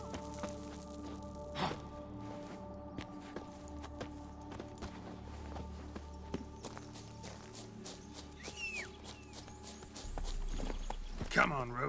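Roach the horse clip-clops along in The Witcher 3 with a steady run of hoof falls under ambient game sound, while a voice talks over it and a heavier rumble comes in near the end.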